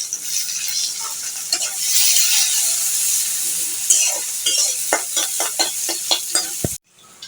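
Cumin seeds and chopped onion sizzling in hot oil, a loud continuous fry crackle broken by a series of rhythmic spatula scrapes and stirs near the end before cutting off.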